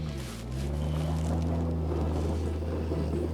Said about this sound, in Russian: У нас завелся рядом, пожалуйста, трактор.